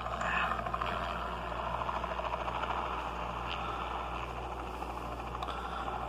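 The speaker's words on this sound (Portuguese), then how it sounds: "Olha o helicóptero." A helicopter in an augmented reality game on a PS Vita gives a steady, droning rotor-and-engine hum that stays level and continuous throughout, with no speech over it.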